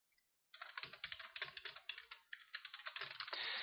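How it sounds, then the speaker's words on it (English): Rapid computer keyboard typing while chatting in Minecraft, with close, steady clicking of keys in quick bursts, alone and fairly faint. "Currently, when I'm typing in chat,"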